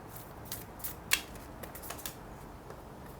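A tarot card deck being shuffled, with soft riffling and flicking of cards at close range and one sharper snap of the cards partway through, quiet and without talk.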